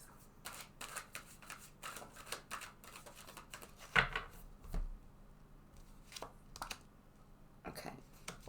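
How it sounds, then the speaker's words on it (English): Tarot cards being shuffled, soft close riffling and slapping bursts repeating irregularly at low level, with a faint voice under them. "Let's take a card for the past."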